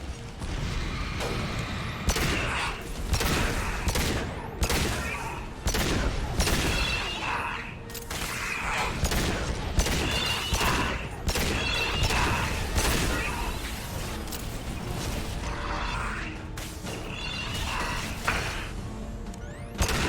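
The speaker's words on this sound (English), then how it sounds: "Firing anti-ship batteries at collector vessel." Anti-ship batteries in a space video game fire on a collector vessel, a rapid, dense series of punchy blasts and mechanical thuds repeating steadily for about twenty seconds, loud and close throughout.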